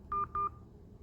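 Telephone keypad tones entering a PIN on a bank phone line: two short, clean DTMF beeps in quick succession, then quiet line noise.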